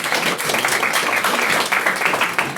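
An audience in a student union council meeting breaks into applause, a dense, steady wash of many hands clapping throughout, with no talking.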